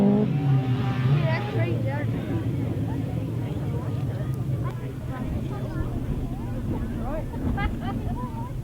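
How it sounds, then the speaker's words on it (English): Grasstrack racing sidecar outfits rev their engines on the start line before a race restart at a British Masters qualifier meeting, a loud sustained engine drone with rising and falling revs, wind buffeting, and a commentator talking over it. "Revving up on the line then for the restart of race number 15."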